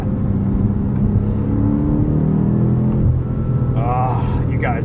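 The engine of a 2022 BMW M5 CS in manual mode pulls hard, a loud, close cabin roar with rising and falling engine tones through gear changes, ending in a brief whine.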